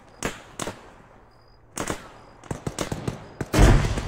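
Explosions and gunfire in the military shooter Arma 3 on a Pacific island, heard as several sharp distant-to-mid bangs and pops spread across the moment, ending in a louder, heavier blast, with no talking.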